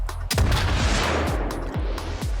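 A gun fired in STALKER 2 lets off a series of heavy, booming shots spaced roughly half a second apart, each with a deep thump and a long rumbling tail, loud and close.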